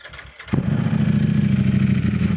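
A Ducati Panigale sport motorcycle engine cranks briefly and then catches, settling into a loud, steady, throbbing idle close by.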